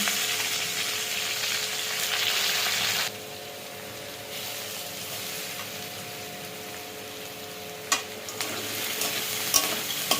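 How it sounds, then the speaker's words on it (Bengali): Chopped onion added to potatoes already fried in a pan, sizzling loudly at first then settling to a softer steady fry, with occasional stirring clinks near the end. "এবার ভাজা ভাজা করবো।"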